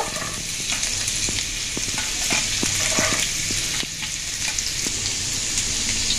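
An egg fries in hot oil in a wok, a steady loud sizzle with scattered crackles and pops running the whole time, no voices.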